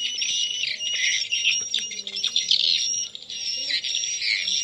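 Recorded swiftlet colony roosting calls played through a speaker: a dense, continuous chorus of high chirps and squawks, moderately loud, with faint low background hum and no talking.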